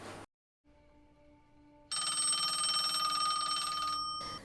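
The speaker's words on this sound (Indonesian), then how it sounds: "tiba-tiba suara telepon berbunyi" A telephone rings in a scene from the 2009 film New Moon: a few faint electronic tones, then a bright, loud, sustained ringtone warbling for about two seconds before cutting off.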